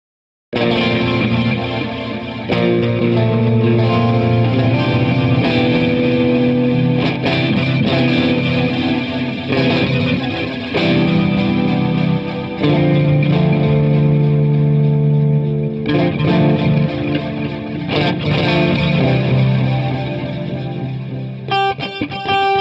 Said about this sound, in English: My reverb back on.